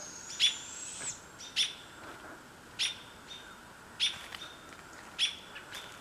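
Owl perched in a tree calling from a distance, giving five short, high, faint calls spaced about a second apart against quiet outdoor background.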